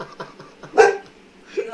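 A dog gives one sharp, loud bark at close range in a home kitchen during a live cooking session, with faint voices and small household noises around it.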